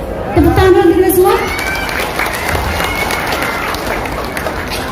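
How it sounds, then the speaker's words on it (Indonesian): Applause and cheering from a seminar audience, a broad, steady roar of clapping and voices that swells in at once and holds, with children's shouts and a brief spoken call near the start. "Tepuk tangan dulu kita semua."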